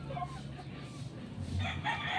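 A rooster crows nearby, a short, strained call that is fairly faint, with soft clucking and background noise around it.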